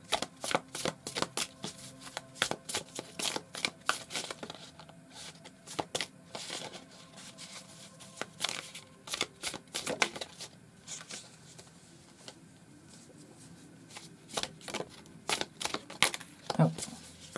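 Tarot cards being shuffled and handled in close succession, with repeated crisp riffles and slaps in an irregular rhythm and a few quieter pauses, recorded close and moderately loud.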